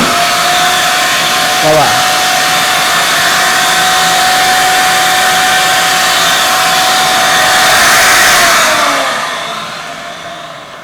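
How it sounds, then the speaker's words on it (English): A FormBOX vacuum former runs its vacuum while heated plastic forms around a buck, a loud steady close whooshing drone that swells slightly, then winds down near the end, with a brief spoken word. "I left the vacuum on for a little while this was forming around it"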